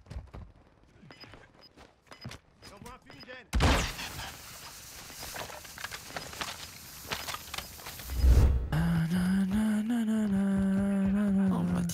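Bursts of gunfire in the video game Warzone 2, rapid shots clustered in the middle section amid footsteps and game noise, followed by a heavy impact, with someone talking at the start.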